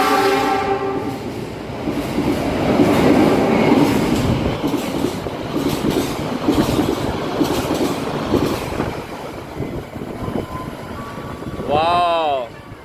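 A passenger train rushes past on the adjacent track in Indonesia, heard from aboard another moving train, with a loud, steady rumbling roar throughout and a rising horn blast near the end while someone talks over it.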